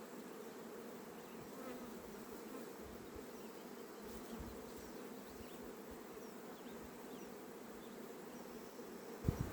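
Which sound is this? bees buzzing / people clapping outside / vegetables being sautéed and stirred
bees buzzing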